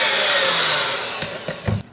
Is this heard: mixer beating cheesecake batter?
yes